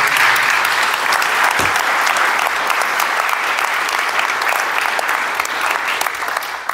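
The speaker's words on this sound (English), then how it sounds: "Let's give all of those a clap and thank you." Audience applause at an election hustings for parliamentary candidates, a dense, sustained wash of clapping from a full room that holds steady throughout and eases slightly at the end.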